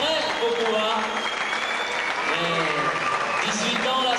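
Crowd applause at an American full-contact kickboxing exhibition bout for boxer Florent Rouleau, a steady clapping wash with voices and cheering from the hall mixed over it throughout.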